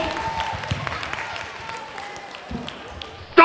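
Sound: audience applause for Mervyn at a quiz

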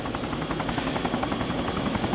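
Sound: helicopter in a video game

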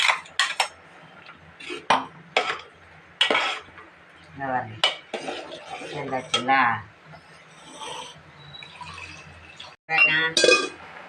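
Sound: ground coconut paste added to simmering brinjal kuzhambu

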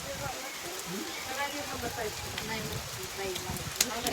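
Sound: rain falling

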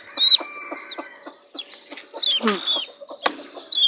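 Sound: chickens clucking

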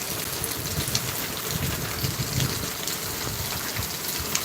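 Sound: heavy rain in Mumbai

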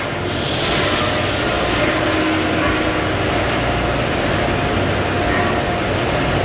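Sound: high-temperature heat treatment furnace for CNG cylinders

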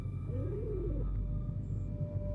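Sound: pigeon cooing in video game Rusty Lake Hotel

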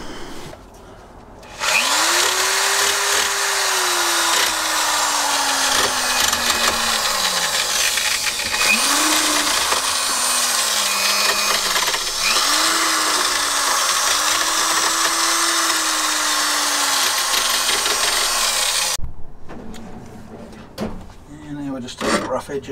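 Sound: filing down rough edges of a kayak trailer kit

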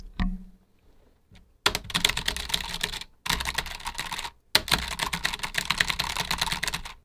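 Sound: typing on Logitech G915 TKL keyboard

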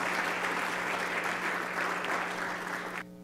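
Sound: audience applause

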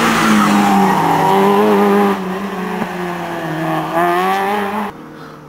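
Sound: Renault Clio RS race car at hill climb

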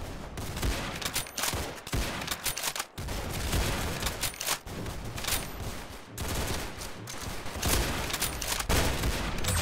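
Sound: gunfire in Roblox Arsenal video game

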